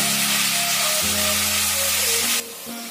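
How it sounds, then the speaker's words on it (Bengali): Onions frying in a kadhai until light brown, a loud, dense hiss of sizzling oil held close up with a low steady hum beneath, dropping noticeably quieter near the end. "হালকা বাদামি করে পেঁয়াজ গুলো ভেজে নেব"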